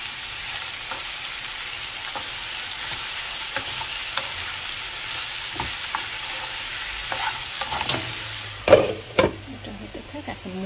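Onions and turmeric fry in hot oil in a pan, a steady sizzle broken by scraping stirs, with a louder clatter of the spoon near the end; no one speaks.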